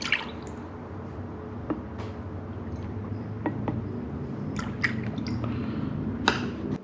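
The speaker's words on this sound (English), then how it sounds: "So I'm going to start out with about 3/4 of a cup of soy sauce." Soy sauce poured into a bowl for a Hawaiian teriyaki marinade, a quiet, steady liquid trickle with faint drips and small splashes against low room noise, close and unbroken by talk.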